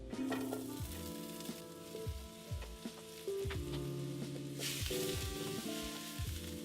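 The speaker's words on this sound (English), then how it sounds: "So we got the spinach, the green onions, the green pepper, and the tomatoes. So let's go ahead and put that in the pan right now." Spinach, green onions, green pepper and tomatoes sizzle steadily in an oiled pan, with intermittent stirring scrapes throughout and light music playing underneath.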